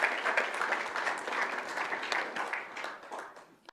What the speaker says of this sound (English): this deserves a very big round of applause.